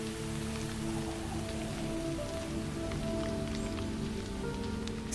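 Steady rain falls in an Australian koala habitat. The dense, even patter of drops on leaves and surfaces holds at a constant level throughout, with no voices.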